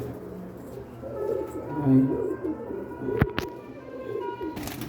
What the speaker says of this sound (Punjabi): ਲੋ ਜੀ ਇਸ ਕਬੂਤਰ ਦੇ ਬੱਚੇ ਜਿਹੜੇ ਆ ਅਵਤਾਰ ਭਾਈ ਕੋਟ ਦੇ ਆ